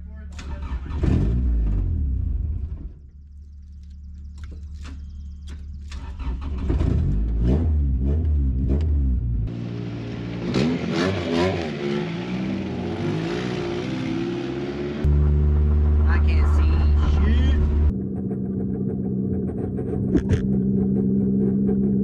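Honda Civic hatchbacks in a stanced-car meet crank, start and rev hard, with several rising and falling engine sweeps, a sharp steady high-rev hold and short bursts, close and loud, while people talk over it.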